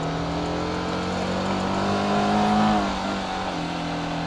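A TVS Apache RTR 310 motorcycle pulls along in first gear on a monsoon ride in Maharashtra, its steady engine drone rising slightly mid-ride before easing back, close and continuous with no talk.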